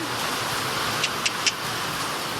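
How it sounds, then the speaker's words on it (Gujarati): Heavy rain falls in a village, a steady broadband hiss of downpour with a few brief faint knocks or clicks in the middle, moderately quiet and without speech. "બહુ વરસાદ આવી ગયો અહીંયા"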